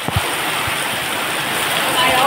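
Heavy rain pours steadily onto a flooded road, a dense hiss of falling water and rushing floodwater, close and constant, with a few low knocks near the start.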